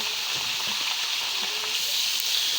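Cauliflower and mashed boiled potato fry in a pan with chickpeas as they are stirred, giving a steady close sizzle with soft scraping and stirring scuffs underneath and no talking.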